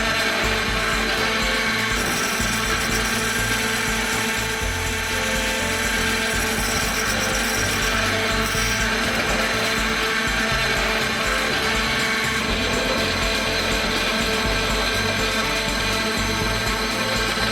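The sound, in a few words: chip grinder fine grinding uneven tin dots on a CPU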